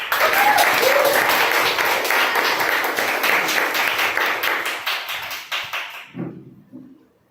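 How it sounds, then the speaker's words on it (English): Loud audience applause at a Toastmasters club meeting as a speaker is welcomed on stage, dense clapping for about six seconds, then tapering off into a few scattered claps and quiet. "Now, I would like to welcome on stage with a huge round of applause Toastmaster Desai"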